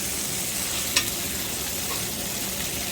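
Huge ribeye steaks fry in a pan while being basted with butter, thyme and garlic: a steady, close sizzle with a single sharp spoon clink.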